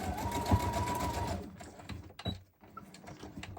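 Sewing machine stitching a paper junk journal page, a fast steady whirring run for over a second that stops, followed by a few faint clicks and handling noises.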